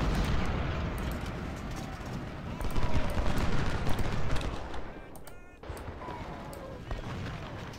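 Artillery and musket fire in Ultimate General Civil War at the First Battle of Bull Run: a dense, continuous rumble of distant guns that swells and then briefly drops away before resuming.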